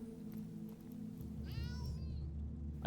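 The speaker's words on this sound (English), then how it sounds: "I hear a kitty." A cat meows once in the fantasy role-playing game Divinity: Original Sin, a short rising and falling call over a low, steady game ambience.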